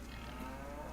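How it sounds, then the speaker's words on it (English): A cow in the Farming Simulator 25 video game lets out a short, low, close moo, heard faintly and alone for under a second. "It's actually the first time I've been up close to the cow."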